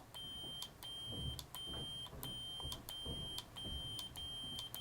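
Short electronic beeps from a Proffie 2.2 Neopixel lightsaber repeat at a steady quick rhythm, thin and high-pitched, over a quiet low hum and some faint handling noise.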